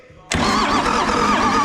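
A 1975 Dodge D600 truck engine cranks briefly, then catches and roars to life, running loud and close with a rough, throbbing idle.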